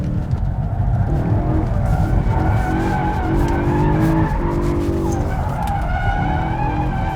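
A naturally aspirated V8 car drifts with loud, sustained tire squeal and skidding over a throaty, revving engine, the pitch wavering continuously as the car slides at close range.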